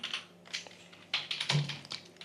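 Code is typed on a computer keyboard in quick, uneven bursts of close, crisp key clicks, with no talking.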